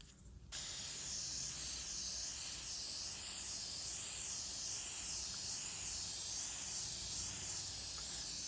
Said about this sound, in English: we're just gonna spray across here with this